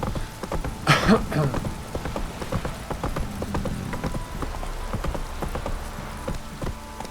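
Steady clip-clop of horse hooves on a hard surface in The Witcher 3: Wild Hunt, a regular trotting rhythm with a brief louder burst near the start over soft background noise.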